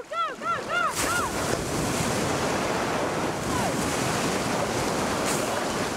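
Sea surf breaking at Ruakaka, New Zealand, during an orca rescue, a constant loud roar of waves and wind buffeting the microphone, with a few brief whistling calls near the start.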